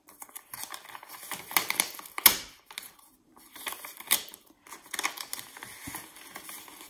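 Paper envelope being torn and fiddled open up close, a series of short crinkly rips and rustles in bursts with brief quiet gaps, one sharper tear standing out, no talking.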